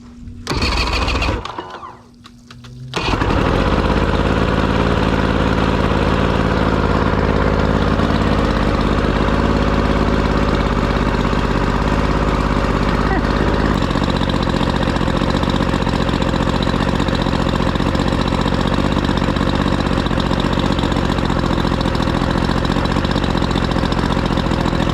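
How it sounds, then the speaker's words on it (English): A jon boat's outboard motor starts after a brief sputter, then runs and idles steadily and loudly near the listener for a long stretch, with a slight change in tone partway through. "we got the motor running. It's running pretty good, not great."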